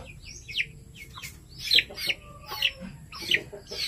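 Dumpo line chicks cheep in short, high, bright peeps, several overlapping in an irregular rhythm, close and fairly clear over a faint low background.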